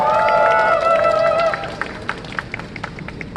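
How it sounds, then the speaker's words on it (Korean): Clapping from a crowd at a student rally, starting under a steady tone and then dwindling into scattered, uneven claps. "큰 박수로 환영해 주시기 바랍니다."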